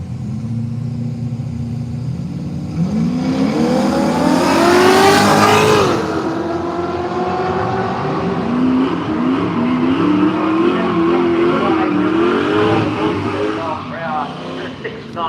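Drag racing car launching against a Holden station wagon in the Speedflow lane at Willowbank Raceway, Australia: a loud engine roars and rises in pitch through gear changes, with a sharp burst near the start, under a commentator's talk.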